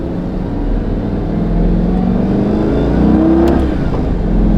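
A Lamborghini Gallardo with the E-Gear transmission pulls hard under acceleration, its engine tone climbing steadily with a brief dip at a gear change, heard loud and close from inside the car.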